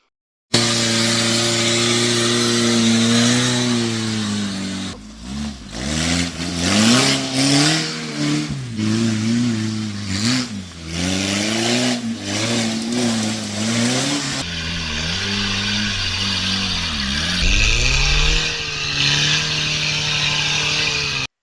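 A 1988 Toyota 4Runner with a 22RE four-cylinder, five-speed manual and solid axles drives off-road, its engine loud and close, revving up and down repeatedly as it climbs and lugs over rough terrain.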